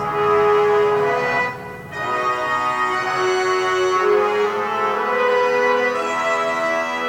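Sustained brass notes held long and bright, a sampled section swelling together with a brief dip before the chord continues, no voices.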